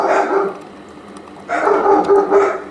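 Several dogs bark and yip indoors in two close, loud bursts separated by a brief lull, with a faint whimper between them.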